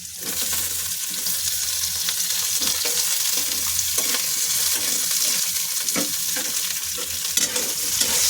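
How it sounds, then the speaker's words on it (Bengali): Garlic and onion fry in a hot pan with a loud, continuous sizzle, and scraping stirs of a utensil are heard up close throughout. "রসুনটা ভাজা ভাজা হচ্ছে"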